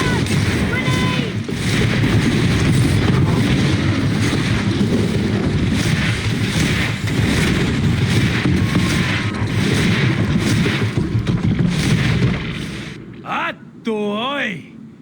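A grenade explosion in the video game GreedFall erupts into a loud, sustained booming roar that rumbles on for many seconds before dropping away, and a voice sounds briefly near the end.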